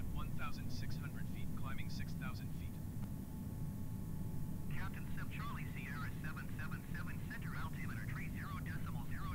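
A Boeing 777-300 airliner's engines drone steadily in Microsoft Flight Simulator, a constant low hum running underneath a person talking throughout.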